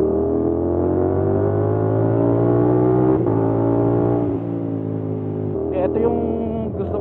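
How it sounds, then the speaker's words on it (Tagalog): Engines rev and drone steadily as tricycles and motorcycles move through a residential town street in Rosario, La Union, loud and close with a continuous roar, then lighter puttering toward the end. "Dami ng tricycle dito."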